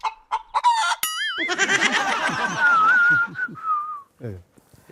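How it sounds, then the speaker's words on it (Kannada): A man whistles a short rising warble, then a long wavering whistled note that slowly drifts down, close and loud, with clucking, chicken-like vocal sounds and other voices around it. "ವಿಜಿಲ್ ಹೊಡೆಯೋದು ಕೇಳಲಿಲ್ವೇನಾ?"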